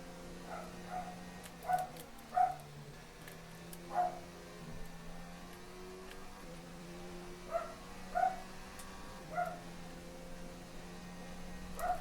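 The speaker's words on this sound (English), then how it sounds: "is starting to bark, cheering on the McLarens" A dog barking indoors during an F1 2019 career-mode racing session: a handful of short, moderately distant barks in small clusters, spaced irregularly over a low steady hum of race-car engine noise.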